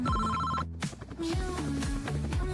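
A telephone rings inside a cartoon story, its electronic tone sitting amid a busy musical score and effects, with a brief gap partway through.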